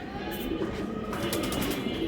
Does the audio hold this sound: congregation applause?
no